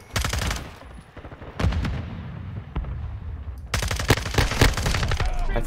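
Rapid automatic gunfire from a weapon in the Modern Warfare 2 open beta video game, loud close bursts at the start and a longer sustained burst near the end, with quieter shots in between.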